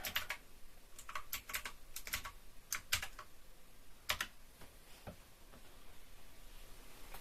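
Quick bursts of clicking keys as a Wi-Fi password is typed on a computer keyboard, several short irregular runs of taps, close and alone without talk.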